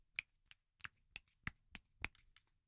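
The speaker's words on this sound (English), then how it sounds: "Hey, that's the sound of one hand clapping." A single hand snapping or flicking its fingers about eight times in a loose, uneven rhythm, each crack sharp, close and fairly quiet against a silent background.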